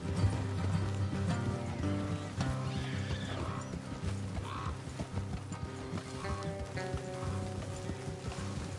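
Horse hooves clip-clop steadily amid a dense Red Dead Redemption 2 game soundscape with music and occasional neighing, loud and continuous throughout.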